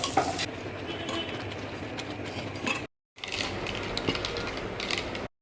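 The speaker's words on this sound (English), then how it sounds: "Making some upma today for breakfast with onions, carrots, beans." Upma with onions, carrots and beans stirred and frying in a pan, a steady close scraping sizzle that breaks off for a moment and then resumes.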